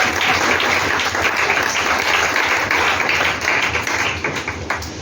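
A church congregation applauding together in steady, dense clapping that fills the space, close and loud, continuing throughout with a slight easing near the end.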